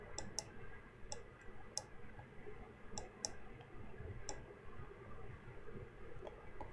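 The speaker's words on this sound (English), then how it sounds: "And I'm just clicking with the cursor." A computer mouse clicks sharply in scattered pairs and singles, about a dozen close, crisp clicks over a low background hum.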